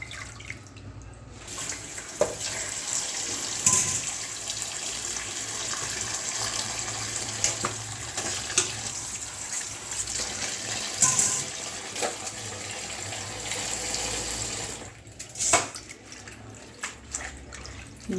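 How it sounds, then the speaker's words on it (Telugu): Tap water runs steadily into a sink while leafy greens are washed, a continuous close splashing wash with brief dips and small clatters, and no voices. "ఇంకా ఎక్కువ ఆకుకూర పోతున్నాయి నీళ్ళు కింద"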